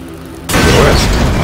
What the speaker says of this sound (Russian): Взрывается? Она взрывается.